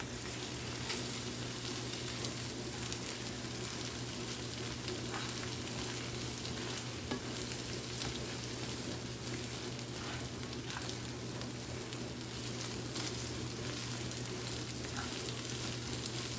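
Scrambled eggs sizzle steadily in a hot pan as a spatula pushes and cuts them, a dense, even crackle with faint scraping over a low steady hum.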